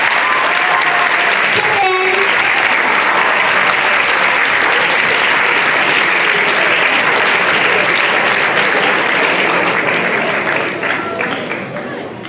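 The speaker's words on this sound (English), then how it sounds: "Please give Nabyl Al Maskari another round of applause" Sustained applause from a school audience at a high school National Day assembly, following a student's speech. Loud, dense clapping runs steadily for about ten seconds, then begins to fade toward the end.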